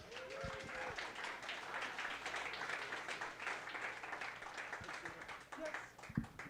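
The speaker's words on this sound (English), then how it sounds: "Let's give a round of applause for John." Audience applause at a Nerd Nite talk event, a dense sustained patter of clapping from a crowd that runs for several seconds before thinning out near the end.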